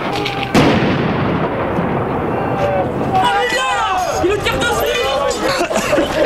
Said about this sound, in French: Les forces de l'ordre tirent quand même de nombreuses grenades lacrymogènes.